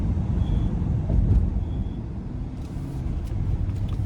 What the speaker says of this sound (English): Road noise, not terrible, barely noticeable.